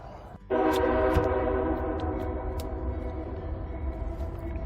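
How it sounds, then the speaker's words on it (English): A loud train horn blares suddenly and holds, over the heavy rumble of a passing train that carries on steadily after the horn, heard at night beside a campsite in the Sierras. "Train's coming."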